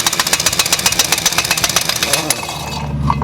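A giant 1-inch drive industrial air impact wrench hammers off 1 to 1-1/16 inch lug nuts, a rapid, loud, close rattling burst lasting a few seconds before winding down, with a voice briefly heard.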